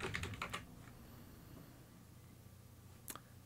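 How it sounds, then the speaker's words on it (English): A password being typed on a computer keyboard, a quick cluster of close, crisp key clicks at the start, then quiet room tone and one last keystroke near the end. "And let's type in our password."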